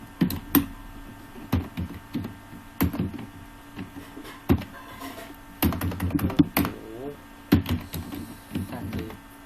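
Someone types C code on a computer keyboard, producing short bursts of sharp keystroke clicks separated by pauses, with a voice speaking briefly between them.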